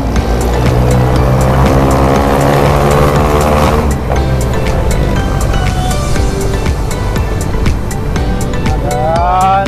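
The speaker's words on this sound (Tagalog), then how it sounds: "Traffic na naman mga idol." Car engines hum and rev in congested road traffic in Zamboanga City, a loud, steady, close roar with rising engine tones and passing vehicles, no voices standing out.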